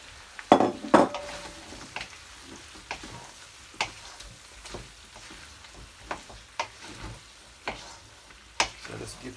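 Oxtail is stirred in a pot with sugar and soya sauce, giving scattered utensil scrapes and clinks against the pot at an uneven pace, with a couple of louder knocks near the start.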